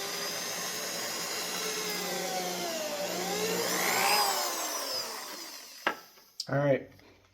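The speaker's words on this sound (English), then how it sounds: "we're gonna drill the new holes" A power drill bores new holes in a busted couch, its motor whining steadily for several seconds and rising in pitch before stopping, followed by a few short knocks and a brief voice.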